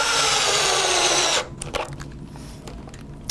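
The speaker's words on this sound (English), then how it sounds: "So we tighten up the center 3 screws" A power drill runs steadily for over a second while tightening the center screws on a front gear platform, then cuts off, leaving light clicks and handling taps close by.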